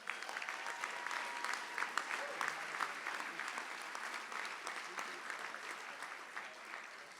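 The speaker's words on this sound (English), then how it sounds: "Let's give them one more big round of applause" A crowd gives a sustained round of applause for the 2019 Civic 50 honorees at an awards event, the dense clapping steady throughout and tapering slightly at the end.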